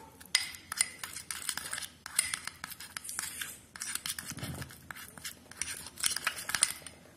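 A spoon scrapes and clinks against a bowl while turmeric face-pack ingredients are mixed into a paste, giving quick irregular bursts of scratching and tapping, close and fairly loud, with no talking.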